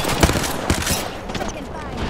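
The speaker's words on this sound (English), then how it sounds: "The enemies are shooting at me." Enemy gunfire in Apex Legends rattles in quick bursts of sharp shots, with a couple of louder cracks early on, while a player's voice is also heard.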